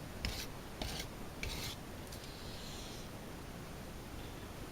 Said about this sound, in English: And you can see how it scrapes the sign like so.